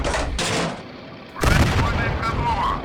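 The 45mm gun of a BT-5 Mod. 39 tank fires in the Steel Fury combat simulator, two sharp booming blasts about a second apart, the second louder and followed by a rumbling tail, with engine noise underneath.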